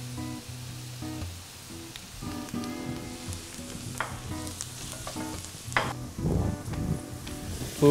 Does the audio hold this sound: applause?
no